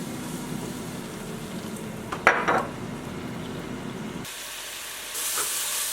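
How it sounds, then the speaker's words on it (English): Mushrooms fry in a pan for lobster ramen, a quiet steady sizzle with a brief clatter of stirring in the middle, then a hissier sizzle near the end. "I'm cooking those mushrooms now."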